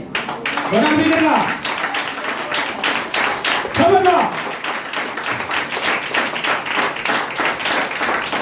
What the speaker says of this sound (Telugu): ఆమె చెప్పి అందరూ చప్పట్లు కొట్టండి